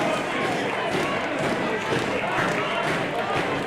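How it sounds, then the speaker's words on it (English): A wrestling crowd at a Junction City Wrestling event roars steadily for the wrestler Saucerman, a dense, continuous wall of cheering and shouting close around, with voices blending throughout. "Crowd already going crazy for Saucerman."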